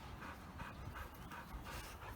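A big puppy pants close up in a backyard, quick rhythmic breaths repeating steadily for a couple of seconds with no talk over them.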